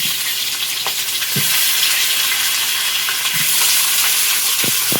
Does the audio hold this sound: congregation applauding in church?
no